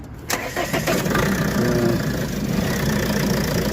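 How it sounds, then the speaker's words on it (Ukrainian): A diesel car engine cranks and fires at a used-car market, then settles into a steady, fairly loud idle with a rough mid-range rumble and no talk. "Дізельочок, дивіться, як робить."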